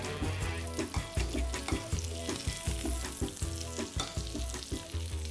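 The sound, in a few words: steak frying and sizzling in a pan after flipping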